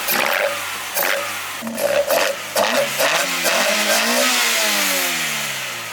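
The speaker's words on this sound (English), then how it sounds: "A nice rev in an Altezza would be exciting." At a car meet, a Toyota Altezza on individual throttle bodies gives several sharp throttle blips, then a longer climbing rev that slowly falls away, loud and raspy up close.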